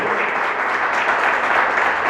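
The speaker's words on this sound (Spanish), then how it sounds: "Dele fuerte ese aplauso al Señor." A church congregation claps hard during a Spanish-language worship service, a dense, continuous burst of applause from many hands with no voices on top.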